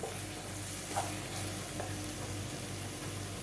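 Masala for a Malvani black vatana curry sizzles steadily as it fries in a pan, with soft stirring scrapes running through, no talk.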